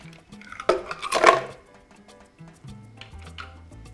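A few hard clinks and rattles as ice cubes drop into a blender jug, a brief clattering burst, then quieter knocks.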